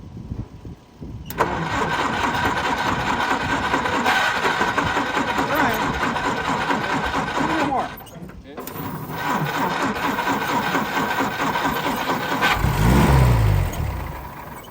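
An old Army Jeep engine cranking repeatedly as it tries to start, a loud close rhythmic churning that pauses briefly and resumes, sputtering near the end, with people talking over it.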